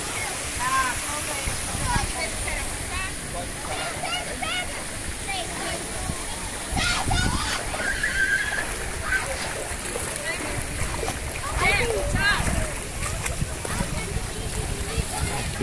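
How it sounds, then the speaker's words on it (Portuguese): Water from the Iporanga waterfall splashes steadily into a pool, a continuous broadband rush with brief louder surges, while people talk over it. "E a água aqui dessa cachoeira"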